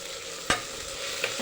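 Something frying in a pan for a Telugu dish of alasanda (black-eyed pea) greens curry, a steady soft sizzle broken by a single sharp stir or scrape near the middle and a lighter one near the end.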